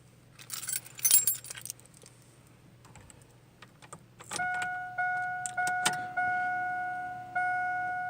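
Keys jangle and scrape close by while someone tries to start a truck with the wrong antique key, followed by repeated dashboard warning chimes pulsing steadily; no talk.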